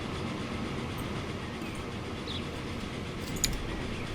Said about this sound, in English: Okay, here comes the train.